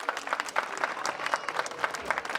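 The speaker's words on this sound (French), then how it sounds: "vous pouvez faire un tonnerre d'applaudissements pour Samantha Barbin" Audience applause for a dancer at an Antillean evening show, a steady patter of clapping hands from a moderate crowd, continuous and fairly close, with no voices over it.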